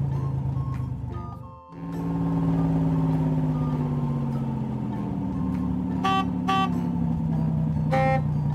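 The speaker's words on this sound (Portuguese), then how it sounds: "Isso é um reboque. Ele ajuda os carros com defeito." A cartoon tow truck drives along with a steady engine hum that shifts in pitch, joined near the end by a few short honks.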